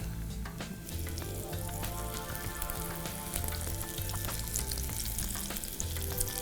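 Crisp-coated chicken fingers fry in hot oil as an iftar snack, a soft, continuous bubbling crackle with scattered pops, fairly quiet and with no talk.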